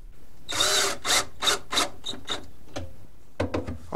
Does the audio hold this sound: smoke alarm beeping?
no